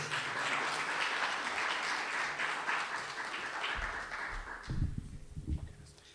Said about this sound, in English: Could we have another round of applause for these dancers?